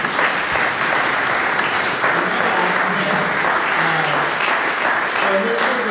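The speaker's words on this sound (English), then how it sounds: "let's give a hand clap for our panelists today" Sustained audience applause for a panel of speakers at a higher-education and arts forum, steady and fairly loud throughout, with a voice speaking over the clapping near the end.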